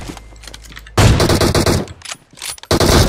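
Gunfire from the PUBG Mobile video game crackles in loud automatic bursts, a short stutter, then a long dense volley, a brief lull and another burst, close and punchy.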